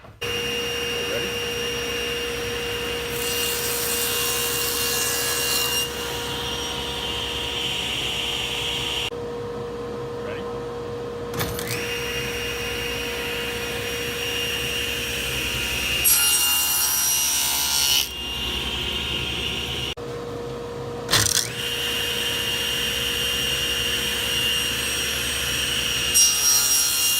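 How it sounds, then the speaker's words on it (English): A table saw cuts through wood in a workshop: a steady motor whine with several long, loud, hissing sawing passes, brief quiet gaps between cuts and sharp clunks as pieces are handled. "One of the cuts that you can do on the table saw is a bevel cut"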